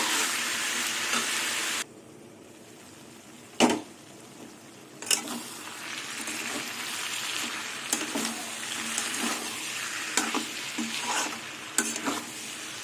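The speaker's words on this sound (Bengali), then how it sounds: "এবার ভালো করে কষিয়ে নেব মশলা দিয়ে" Vegetable curry with soybean and biuli dal is stirred and fried with spices in a pan, giving a loud continuous sizzle broken by a quieter pause and several sharp scrapes and clacks of the stirring spoon.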